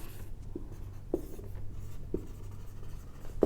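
A pen taps and scratches on paper while notes are written during a physics lecture, in quiet intermittent strokes close to the microphone with no talking.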